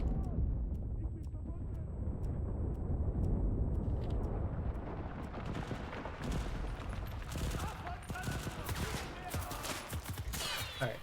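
Automatic gunfire from a video game rifle, rapid bursts of rattling shots with heavy booms and rumble, loud and dense, with a voice talking over the din.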